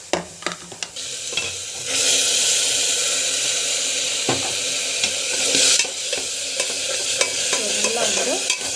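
Ingredients sauté in a hot pan while being stirred, a loud, dense sizzle swelling and easing with spoon scrapes and clacks, close and steady with no talking.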